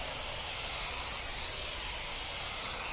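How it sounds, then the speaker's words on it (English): Wheel acid cleaner sprayed onto a car tire, a continuous, even airy hiss held close for several seconds without pause. "I'm going to spray the tire."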